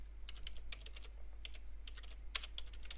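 Typing on a computer keyboard, light rapid clicks of keys in irregular bursts, close and fairly quiet over a low steady hum.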